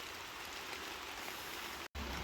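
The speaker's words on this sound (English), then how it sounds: "as you can hear, it's really nice, proper rain" Steady, proper rain falling all around, heard from shelter beneath a tree in woodland: a dense, even hiss of drops on leaves and ground, close and continuous, with a brief cut near the end.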